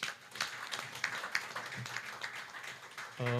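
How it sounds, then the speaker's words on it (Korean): Symposium audience at a cultural heritage policy event gives a round of light applause, scattered claps rising and falling at moderate distance, ending as a voice begins speaking. "김창문 사무관님과 이동건 소장님께 감사의 박수 다시 한번 부탁드립니다"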